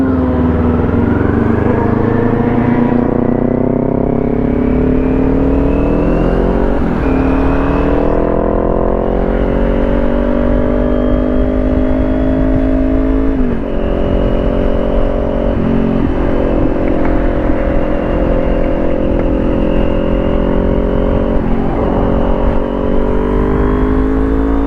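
Several Kawasaki Ninja 400 motorcycles accelerate hard on a group breakfast ride, a loud, steady engine whine that rises in pitch as they rev through the gears, with wind rush.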